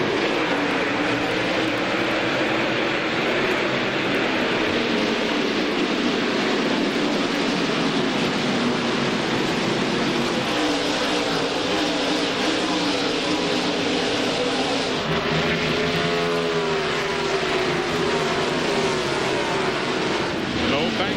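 NASCAR Winston Cup stock cars at Phoenix in the 1999 Checker Auto Parts Dura Lube 500, a dense steady roar of many engines throughout, with a shifting pitch sweep near the end as cars pass.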